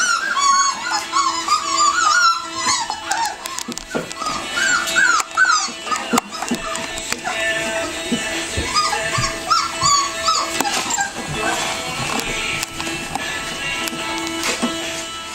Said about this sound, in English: the widow, Mrs. Smith, has a dog who had puppies last Friday.